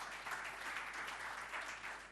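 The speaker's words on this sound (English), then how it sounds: "let's applaud one more time and give the floor to the first startup" Audience applause at a young entrepreneurs' investment forum in Kazan, a steady dense clapping from a crowd that holds evenly for the whole stretch, with no voices over it.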